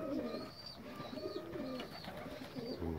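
A pigeon coos repeatedly at close range after landing, soft rolling low notes over quiet outdoor ambience, with thin higher chirps from other birds.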